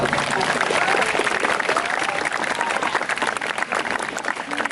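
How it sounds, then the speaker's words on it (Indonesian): Applause from a school audience at the opening of a Ramadan festival event at a junior high in Banda Aceh, a dense steady clatter of many hands that fills the whole stretch without a break. "Jadi tepuk tangan."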